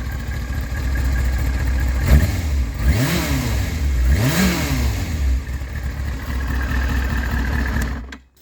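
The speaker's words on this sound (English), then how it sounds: "Such a quiet motor mechanically." A Yamaha R6 5EB sport motorcycle engine idles loudly up close, then is blipped twice in quick throttle revs that rise and fall before settling back to idle and cutting out at the end.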